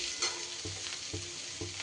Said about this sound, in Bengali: দিয়ে দিচ্ছি ভেজে রাখা উচ্ছেগুলো।